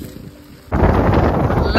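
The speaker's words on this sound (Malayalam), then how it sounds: "നല്ല കാറ്റ് പറഞ്ഞു കഴിഞ്ഞാൽ നമുക്ക് നിൽക്കാൻ ബാലൻസ് കിട്ടാത്ത തരത്തിലുള്ള കാറ്റാ" A short pause, then strong wind on a hilltop in the Banasura Hills, Wayanad, suddenly buffets the microphone with a loud, steady rushing roar that lasts to the end.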